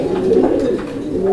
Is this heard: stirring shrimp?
no